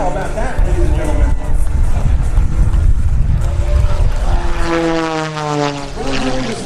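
MXS-RH aerobatic propeller plane performing an inside tumble at a Rhode Island airshow, a loud, wavering engine drone with rising and falling pitch under an announcer's voice.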